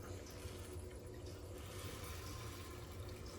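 Water rushing through a plumbing isolation valve just opened on a domestic pipe, a steady close hiss and gurgle running continuously without a break.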